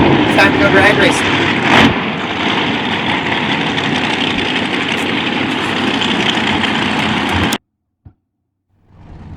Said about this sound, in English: now we have cars. I hear vroom vroom noises going, and it's time to go drag racing